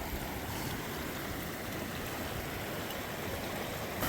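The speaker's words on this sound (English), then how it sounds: "Third crossing of the very same stream." A stream rushes at a trail crossing in the rain, a steady broadband wash of flowing water heard close and loud, unbroken throughout with no voices.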